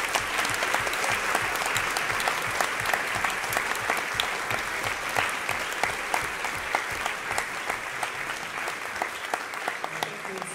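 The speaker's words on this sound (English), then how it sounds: "Can we applaud our questioners?" Audience applause after a question session at a lecture on science and religious belief: dense, sustained clapping from a large crowd, steady and loud throughout with no talking.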